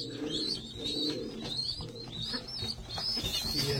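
Pigeons coo in a village setting where pigeon chicks are offered for sale, repeated soft throaty coos and a few chirps close by over a low background murmur.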